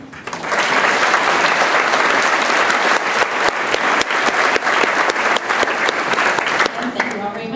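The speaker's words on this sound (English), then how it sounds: "we should all give them a round of applause too." A room full of people at a school district board meeting claps together in a loud, sustained round of applause that starts abruptly and holds steady, with no talking.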